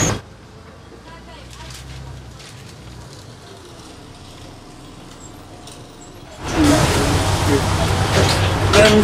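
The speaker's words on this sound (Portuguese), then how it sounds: "Estamos ainda no primeiro autocarro" Steady low rumble of a city bus heard from inside while riding along, with murmured background voices, swelling abruptly into a much louder, rougher roar for the final few seconds.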